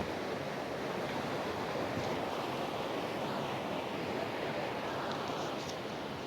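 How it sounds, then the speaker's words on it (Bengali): Vasistha waterfall, a mountain stream near Guwahati: a dense, continuous roar of rushing water, even and unbroken, with some wind buffeting the microphone. "এই হচ্ছে বশিষ্ঠ ঝর্ণা"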